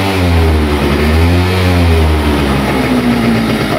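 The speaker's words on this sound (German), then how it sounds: "Ich gebe nochmal Gas" A Pegasus Sky 50 scooter with light accident damage revs its small engine on the throttle, a close, steady buzzing drone whose pitch rises and falls slightly across a few seconds.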